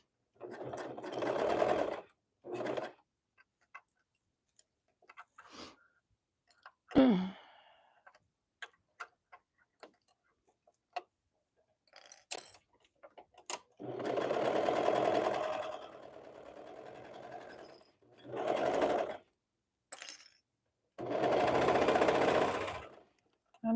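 A domestic sewing machine stitches a Hudson hoodie in several short runs and a few longer bursts, close and fairly loud, with quiet ticks and clicks between the stretches of stitching.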